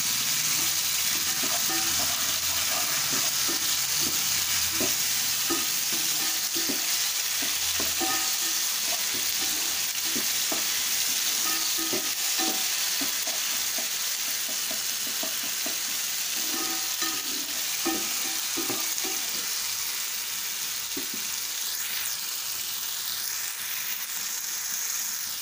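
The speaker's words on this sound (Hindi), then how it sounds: "डालने के बाद हम इसे अच्छे से थोड़ा भून लेते हैं।" Ginger garlic paste fries in a hot pan for a cluster bean curry, giving a steady loud sizzle throughout with occasional crackles and stirring scrapes, and no voices.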